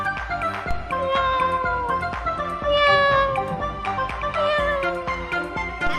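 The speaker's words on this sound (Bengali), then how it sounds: "একটা পুষি পুষি বিড়াল" A cat meows repeatedly at close range, a string of clear, drawn-out cries with short gaps between them and no talk over them.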